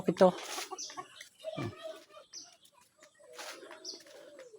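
Chickens in a rural village yard cluck and call in short bursts, fairly near, while people talk over them.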